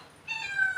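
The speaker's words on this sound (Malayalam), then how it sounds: "വലിയൊരു മഞ്ഞ കളർ പൂച്ചണ്ടേ" A single cat meows close by, one drawn-out call that rises and holds.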